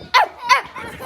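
A child playfully imitates a dog's bark during an animal sounds game, voicing two short, sharp yaps followed by a softer third one, close and clear.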